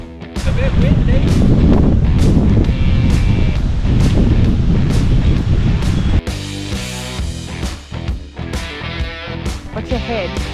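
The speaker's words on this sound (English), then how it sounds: "It's a bit windy." Strong wind blows along the coast at Albany, roaring and buffeting loudly and continuously for several seconds before easing into lighter, gustier noise.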